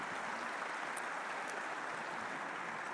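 Steady applause from a congress audience at the opening plenary session, a continuous wash of clapping held at an even, fairly distant level throughout.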